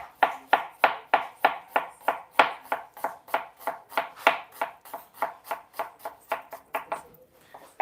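A knife chops onion on a board in a fast, steady rhythm of sharp knocks, roughly three per second, close and clear with no talking.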